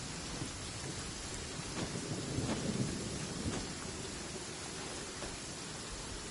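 Thunder rolls and cracks through steady heavy rain in a Genshin Impact storm, with a louder rumbling burst in the middle of the steady downpour.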